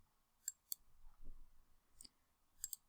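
Mouse clicks on a computer, a few sharp, quiet taps spread through a short stretch with no talking, as a button is pressed in a spreadsheet dialog.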